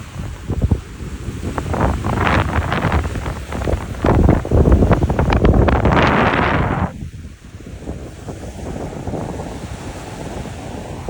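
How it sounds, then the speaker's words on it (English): Ocean waves wash onto a beach in Miches, Dominican Republic, a surge of surf building and breaking loudly before settling into a softer, steady wash, with wind rumbling across the microphone throughout. "I love just hearing the waves coming."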